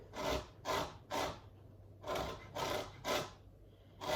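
A lemon is rubbed across a grater to take off the zest, giving six rhythmic, close rasping strokes in two groups of three with short pauses between.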